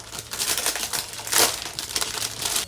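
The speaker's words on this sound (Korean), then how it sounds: "한번 뜯어볼게요." Plastic packaging wrapped around a rabbit-shaped pencil case is torn and crinkled open, a steady run of close rustling and crackling with one louder rip near the middle, no voices.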